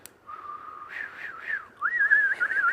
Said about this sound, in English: basically when you whistle, can you do this?